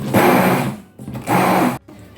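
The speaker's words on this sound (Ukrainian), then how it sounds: "І ось я взяла погружний блендер, і зараз нам потрібно гарненько його це все ось так" An immersion blender whips a cheese mixture for a strawberry jelly cake, running in two loud, close whirring bursts separated by a brief pause.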